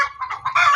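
Chickens clucking close by in a short burst, several overlapping calls with a louder squawk toward the end, with no talking.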